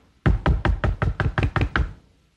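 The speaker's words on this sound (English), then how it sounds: "and he rapped on the door." Eight rapid, evenly spaced knocks on a huge castle door, loud and close, forming a steady rhythmic rapping that stops abruptly, with no voices over it.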